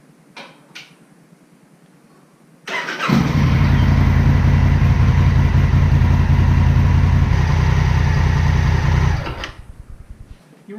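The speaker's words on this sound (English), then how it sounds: "I'm going to start the bike up, let it run a little bit" A 2017 Honda Africa Twin motorcycle engine fires up and settles into a loud, steady idle close by, running for several seconds before shutting off into quiet.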